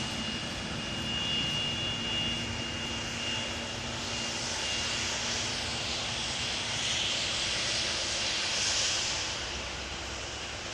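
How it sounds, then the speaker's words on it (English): A 24-year-old Icelandair Boeing 757-200 jet in old livery at Amsterdam Schiphol gives off a sustained engine roar with a rising whine, swelling and easing slightly as it passes at moderate distance. "Here we have Icelandair Flight 500, Boeing 757-200"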